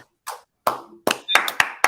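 A handful of sharp hand claps, sparse and uneven at first and then quickening into a brief, close round of applause from a small group, with no voices.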